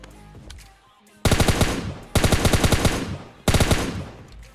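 Automatic gunfire in PUBG Mobile Lite on a warehouse map comes in three loud, rapid bursts of close machine-gun shots, each lasting about a second, with short quieter gaps between them.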